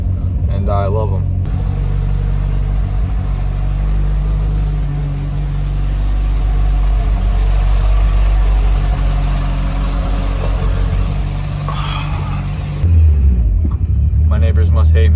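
Mitsubishi Evo engine idling as it warms up, a steady deep rumble held close and loud for the whole stretch, with a brief shift in tone near the end.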